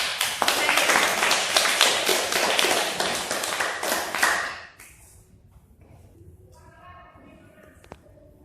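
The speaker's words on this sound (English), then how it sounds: "Please give applause for the speakers and all of you all." Dense clapping from a crowd for about four seconds, then it stops abruptly, leaving quiet room noise with a few faint sounds.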